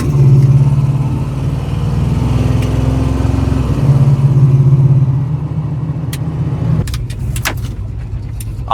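A diesel-swapped Geo Tracker idling at a stop sign, its loud steady engine drone running close and unbroken with a slight rise and fall, then a few sharp clunks near the end, with no one talking.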